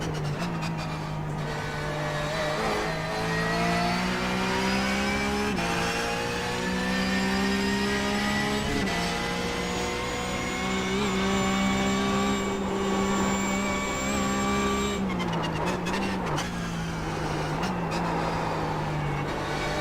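A Porsche race car engine in the iRacing sim at the Nürburgring on a slippery track, revving loud and close as it climbs and falls through the gears in long sustained pulls, with a brief dip near the end.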